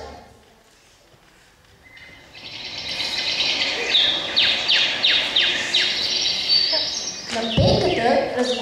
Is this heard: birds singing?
yes